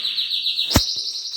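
Canary in a breeding aviary giving a sustained high whistling trill broken by one sharp chirp, close and clear.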